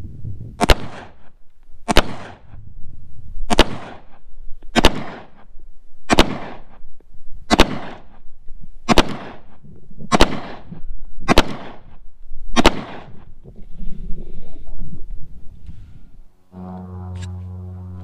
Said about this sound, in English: right now this is the Ruger Security 9, 9mm, 10 round magazine.